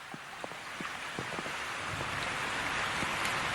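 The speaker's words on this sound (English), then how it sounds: "Rain." Steady rain falls in a dense, even hiss, with scattered individual drops tapping close by throughout.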